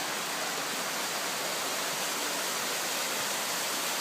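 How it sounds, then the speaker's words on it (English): A mountain brook flows beside the Beaver Brook trail on Mt. Moosilauke, a steady, loud broadband rush of water with no break, heard up close and alone. "There's more of the brook."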